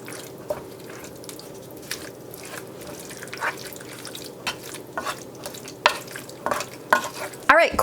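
A pot of chili mixed with seasoning is stirred, producing scattered soft scrapes, knocks and wet bubbling clicks over a low simmering hiss, with the taps growing busier toward the end.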